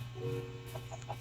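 A few short, soft clucks from a Minecraft chicken over a steady low hum, quick and close together in a brief moment.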